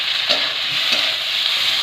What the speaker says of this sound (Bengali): এবার টমেটো দিয়ে দেব